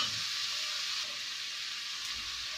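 Onions sauté in a pan for Kerala fish head curry, a steady, even frying hiss heard close and unbroken, with no voices over it.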